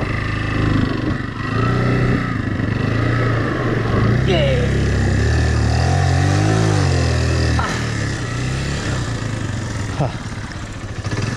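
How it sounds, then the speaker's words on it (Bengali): A motorcycle engine drones steadily and loudly at close range while the bike is ridden off-road through water on a route from Jaflong to Sadapathor, with revs rising and falling and people talking over it. "ভাই মোটরসাইকেল যাবে না?"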